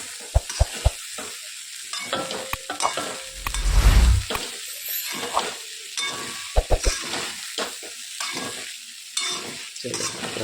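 A spoon stirs batata poha, flattened rice with potatoes, in a hot pan with repeated scraping strokes and a soft sizzle, loudest around the middle, with no talking.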